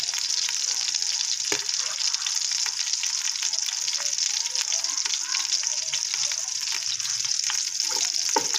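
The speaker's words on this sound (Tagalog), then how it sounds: "Ayan mga kabagyar, may lumabas na mantika. Dito na tayo maggigisa." Native chicken fat rendered into oil sizzles steadily as sautéing begins, a dense, even frying hiss with small crackles and pops throughout, no voices.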